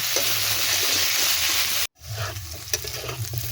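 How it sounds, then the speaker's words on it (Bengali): Potatoes and onions frying in a pan with green chilli added, giving a steady loud hiss and sizzle that cuts out abruptly for a moment, then returns with stirring scrapes and bumps. "এবার রান্নার করে কি সুন্দর আলু পেঁয়াজগুলো ভেজে নিচ্ছি"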